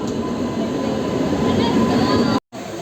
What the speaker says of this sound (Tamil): ட்ரெயினுக்கு கை நீட்டிகிட்டு இருக்கேன்.